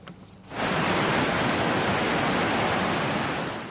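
Floodwater after heavy rain in Kastamonu roars steadily through a stream past a collapsed bridge, starting abruptly after a brief quieter moment and continuing as a loud, continuous rushing wash.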